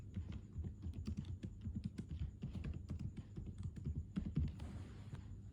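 Close, rapid typing on a computer keyboard as a channel name is entered, a quick irregular run of crisp key clicks with a brief softer rustle near the end, no talking.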